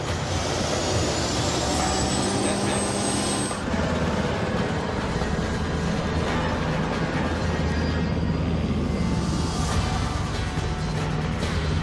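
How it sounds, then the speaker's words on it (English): A jet airplane passes overhead outdoors at a car show, a steady broad roar that fills the background throughout, with a faint whine and a slight surge partway through. "Nice jet sound in the background."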